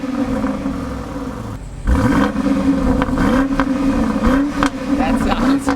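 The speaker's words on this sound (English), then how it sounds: "let's give it a quick little rev here, and you guys will be able to hear the rumble" A 2020 BMW X6 M50i twin-turbo V8 sits idling with a deep rumble, then a sharp rev swells its roar and several quicker blips rise and fall, loud and close with a voice speaking over parts of it.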